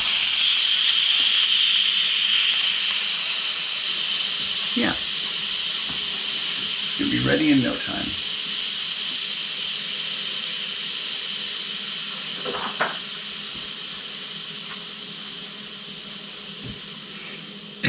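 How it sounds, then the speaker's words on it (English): An Instant Pot venting its pressure gives a loud, steady steam hiss that lasts the whole time, with brief talk heard over it. "slowly and carefully release any remaining pressure from the thingamabob. And I'll try to do this without spraying steam all over my camera."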